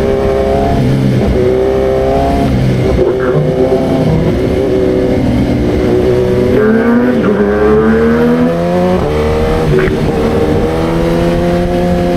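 A motorcycle engine revs and climbs repeatedly on a downhill mountain road, its whining pitch rising and falling through gear changes, loud and close for the whole stretch.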